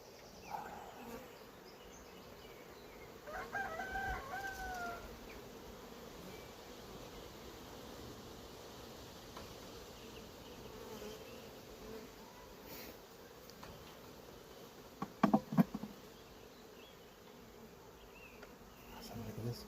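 Honey bees buzz steadily around an opened hive during a beekeeping inspection, a faint, continuous drone with a few louder close passes and brief handling noises.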